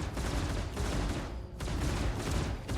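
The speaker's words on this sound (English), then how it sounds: "Wow, this distortion cannon can take down shield really fast." Sustained fire from a spaceship's distortion cannons in Star Citizen, a thick, rumbling stream of shots with a brief dip midway before the barrage resumes at full strength, no talking over it.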